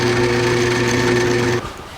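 Drilling 11/32-inch holes for seat slider studs on a 1949 Chevrolet gasser with a Summit Racing poly seat: a loud, steady drill whine that holds evenly and then cuts off sharply near the end.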